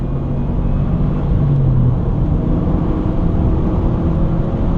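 Engine of a 2013 Subaru WRX heard as a steady, loud low rumble with a brief rising tone partway through, continuous and close with no talking.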